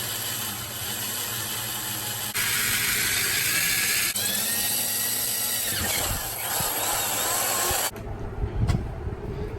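A drill bores a hole through a metal plate C-clamped to a vise, grinding steadily and loudly up close for several seconds with shifting pitch, then stopping as softer handling noises follow.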